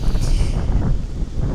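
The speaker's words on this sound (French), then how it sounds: "Purée, le vent." Steady, loud wind buffets a microphone outdoors, a continuous low rumbling roar with no pauses and no speech.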